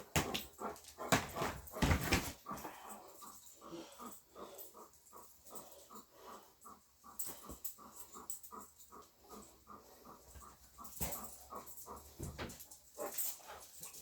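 A large dog pants and whimpers in a steady, rapid rhythm, fairly close, with a few louder bursts of movement near the start and end.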